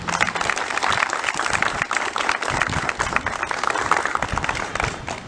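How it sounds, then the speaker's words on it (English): A school audience at an International Women's Day event gives a round of applause for the principal, a loud, sustained wash of many hands clapping together with no break. "So a huge round of applause for Ma'am."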